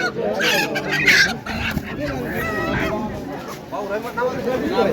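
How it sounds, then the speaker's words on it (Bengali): Local ducks and chickens honk and cackle at the 400-year-old Goyhata village market in Nagarpur, Tangail, mixed with crowd chatter and nearby voices. "এখানে প্রচুর পরিমাণে দেশি হাঁস মুরগি পাওয়া যায়"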